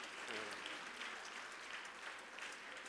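Steady, dense applause fills a church gathering, many hands clapping continuously at a moderate, even level with no talk over it.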